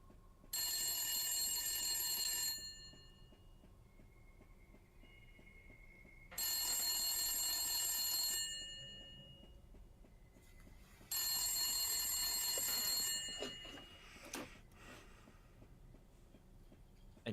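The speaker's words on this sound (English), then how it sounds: "yet another phone starts to ring" Three bursts of an electronic telephone ringing, each about two seconds long and separated by pauses, sounding clear and fairly close against a quiet room, with some faint knocks at the end.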